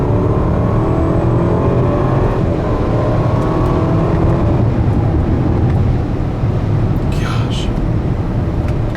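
A 2021 Range Rover Westminster Edition luxury SUV accelerating at full throttle, a loud, steady, muted engine and exhaust drone heard from inside the cabin, with road noise underneath and no talking.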